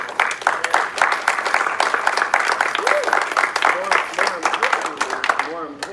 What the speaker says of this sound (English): a round of applause for all of them because they've done a good job